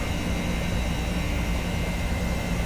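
Steady, continuous drone of an airplane engine in the X-Plane 10 flight simulator during an autopilot climb, loud and unbroken with no voices over it.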